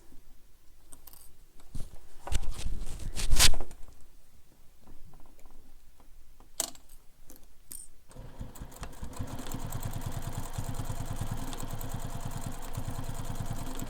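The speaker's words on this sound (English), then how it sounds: "I'm going to sew these" A sewing machine stitches backpack pieces in place, starting with scattered clicks and short bursts of handling noise, then running in a steady, close mechanical whir for the second half.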